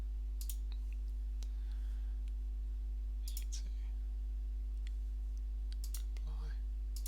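Several sharp computer mouse clicks at a software workstation during Creo CAD drawing work, spaced irregularly over a steady electrical hum with faint background noise.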